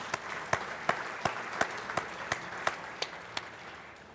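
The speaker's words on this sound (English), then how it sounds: "Let's show them a round of applause" Applause from a banquet audience at a police awards dinner, a steady wash of many hands clapping with sharper individual claps punctuating it at a regular pace, moderately loud and without talk.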